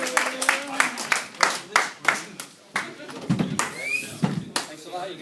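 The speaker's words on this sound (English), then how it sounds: "So, strong round of applause for that" A small open-mic crowd at a comedy night claps for a comedian in loose, uneven bursts of separate hand claps, with voices and a few whoops mixed in.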